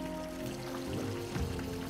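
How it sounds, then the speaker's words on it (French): Heavy rain pours onto a river while fly fishing for trout and grayling on the Albarine, a steady broadband wash of drops and flowing water at close range, with no talk. "il pleut énormément"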